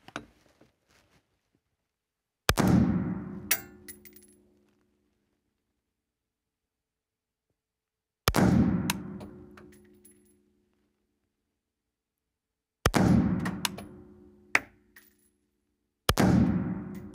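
Zastava PAP M90 5.56 rifle firing at a target outdoors, four sharp isolated shots spaced several seconds apart, each loud crack followed by a short echoing decay, with near silence between.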